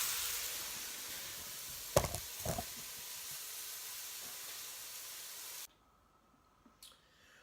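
Onions and garlic sweating in a pan for a rabbit, duck and garlic burger give a steady soft sizzling hiss, broken by a couple of sharp clatters near the middle, before the sound cuts to near silence at the end.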